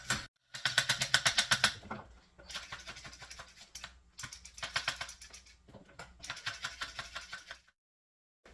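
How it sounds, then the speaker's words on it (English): Carrot peeler scraping along carrots in quick back-and-forth strokes, bursts of close, crisp rasping strokes in several separate runs with short pauses between them. "a carrot peeler works in both directions"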